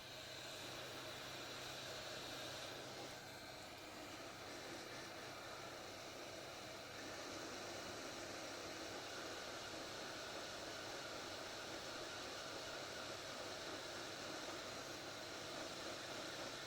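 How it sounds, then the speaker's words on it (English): A hot air blower runs for desoldering a surface mount IC, producing a very faint, steady, airy hiss that stays unbroken throughout. "So we'll turn on the hot air blower."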